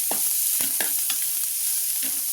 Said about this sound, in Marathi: हा कांदा आपल्याला छान परतून घ्यायचा आहे।